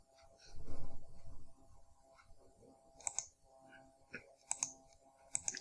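Computer mouse clicking while working in the Excel Insert menu, several short crisp clicks in small clusters over the latter half, preceded by a brief low rumble, close and fairly quiet.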